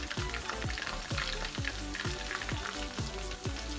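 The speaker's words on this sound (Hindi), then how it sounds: "यहाँ पर मेरी मामा चिकन फ्राई कर रही हैं।" Chicken pieces frying in a pan in a home kitchen, a steady loud sizzle with repeated scraping stirs roughly every half second, while a low hum and faint background music run underneath.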